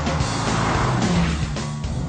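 A Nissan 370Z is driven hard on a race track, its engine roaring close by as the tires squeal in short bursts through the corner.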